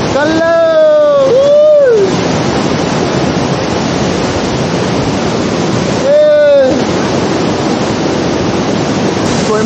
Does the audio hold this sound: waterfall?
yes